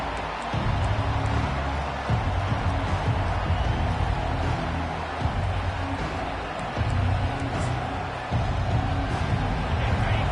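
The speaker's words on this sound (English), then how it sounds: "This crowd bringing an ear-splitting welcome to their visitors." Football stadium crowd cheering a visiting team, a dense continuous roar of many voices in a large open venue, steady and loud throughout.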